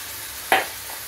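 Spices and turmeric hitting hot oil, a single short sizzle burst rising from a quiet kitchen background and quickly fading.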